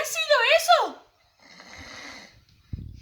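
A voice imitates a snore with a wavering, rising-and-falling nasal tone, followed by a softer raspy breathy exhale and a short thump at the end; no words are spoken.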